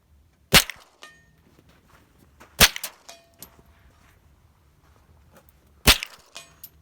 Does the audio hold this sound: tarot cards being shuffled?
no